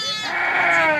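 A single goat bleats loudly and close at a goat market in Jataúba, Pernambuco, one drawn-out wavering cry lasting about a second.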